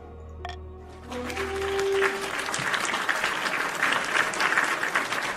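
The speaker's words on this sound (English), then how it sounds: "it might be too early for applause" Applause from an audience during a king of the castle event, a broad steady clatter of many hands that swells in after a brief tone and carries on evenly to the end.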